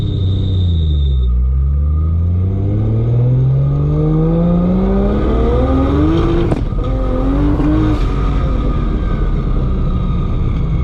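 A Barra-swapped Ford GT350 fitted with a PPG sequential gearbox accelerates hard to redline, its loud engine note climbing through the revs with a sharp break at the upshift, then rising again in a continuous close roar.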